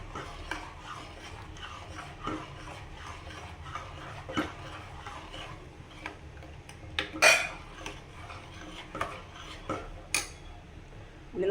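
A ladle scraping and clinking against a pot while sambar with okra and tamarind is stirred, giving scattered metallic taps and rubs at a moderate, uneven pace over a quiet background.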